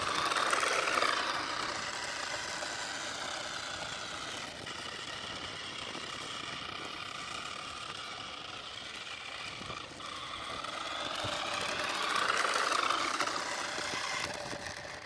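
A small RC car motor runs at normal throttle with a buzzing, whirring drone that swells louder near the start and end as it passes close, fading somewhat in between.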